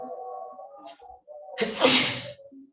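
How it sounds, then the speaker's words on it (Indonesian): A single loud, close sneeze bursts out after a stretch of quiet talk, followed by a short trailing breath and more speech. "Sorry ya, nih bersin."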